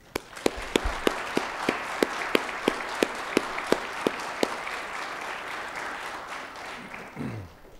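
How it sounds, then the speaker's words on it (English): Applause from a panel conference audience on the displacement crisis in Ukraine, opening with a run of sharp individual claps over a steady wash of many hands, then settling into continuous even clapping that fades near the end. "One more round of applause."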